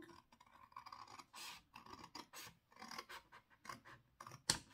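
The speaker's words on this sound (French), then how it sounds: "Prenez vos ciseaux et on va couper." Scissors snip through paper in quick close cuts, a string of crisp irregular slices and rustles with short gaps, fairly quiet and with no voices.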